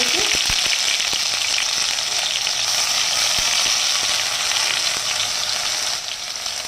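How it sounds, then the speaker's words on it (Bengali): Green pea paste fries in hot mustard oil in a kadai, giving a loud, dense, continuous sizzle with a few clicks near the start and no voices. "দিয়ে এবার তেলের উপর একটু ভাজা ভাজা করে নেব"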